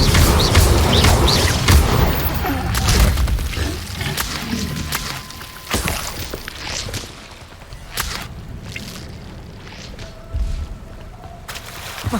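Spell effects from a Harry Potter video game: a busy run of bursts, whooshes and thuds, loud at first and then sparser, with sharp cracks and impacts scattered across the stretch.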